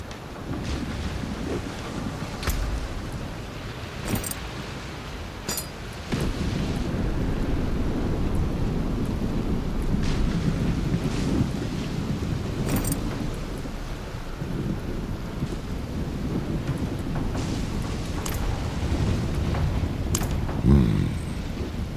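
A thunderstorm in the Diablo game world, aboard a ship at sea: continuous rain and wind roar with low rumbling thunder and several sharp cracks scattered through, heavy and sustained without speech.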